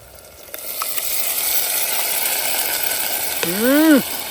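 Steady, hissing sizzle of spice tempering in hot oil in a pan runs throughout, with a brief rising and falling whine near the end.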